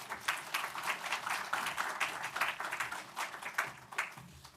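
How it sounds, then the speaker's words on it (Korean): Congregation applause welcoming a pastor at a Sunday church service, with even, steady clapping from many hands throughout. "우리 격려와 사랑의 마음을 담아서 큰 박수로 모시겠습니다"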